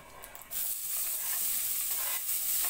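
Fresh tofu drops into hot oil in a pan and settles into a loud, steady sizzle that holds without a break, with no voices over it.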